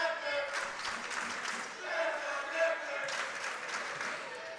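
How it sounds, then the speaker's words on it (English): A crowd at a high school varsity volleyball game cheers and claps in a gym, heard fairly faint and distant beneath a commentator's voice. "the crowd's starting to get a little nuts here"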